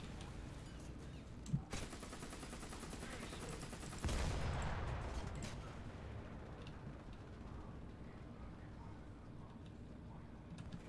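War Thunder battle gunfire: a sharp shot, then a long heavy burst of machine-gun fire that builds and fades into distant rumbling, fairly quiet overall with talk around it.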